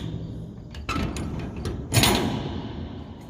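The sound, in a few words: heavy door of an abandoned train being opened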